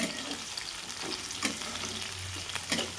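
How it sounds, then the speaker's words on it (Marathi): Chopped onion frying in a pan for Maharashtrian chana dal bharda, alongside garlic-cumin paste and green and red chilies. A steady, close sizzle with a few sharper stirring scrapes, and no talking. "कांदा पण छान भाजून घेते लाल कलरपर्यंत"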